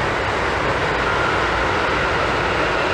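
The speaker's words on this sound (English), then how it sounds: "the train does come. Gatwick Express, it says." A Gatwick Express train rumbles across the Ouse Valley Viaduct, a loud, steady, close roar of rolling wheels and engine noise filling the whole stretch with no talk.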